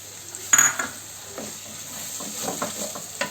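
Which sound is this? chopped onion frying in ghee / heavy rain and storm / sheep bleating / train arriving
chopped onion frying in ghee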